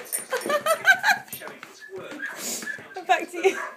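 A puppy whimpers and yips in short, high bursts, mixed with people talking and laughing nearby.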